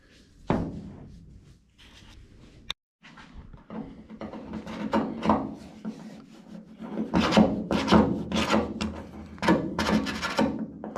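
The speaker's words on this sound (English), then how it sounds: "Yeah, I think I'll rat tail it." A rat tail file rasps inside a hole in the sail panel of a 1969 Dodge Charger R/T 440, a run of scraping strokes at close range, building into rapid back-and-forth filing with a sharp knock early on.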